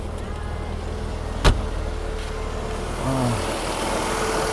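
Repaired Mercedes W123 280CE engine idling steadily with a low, even hum, a sharp click near the start and a brief rising whine partway through, no voices over it.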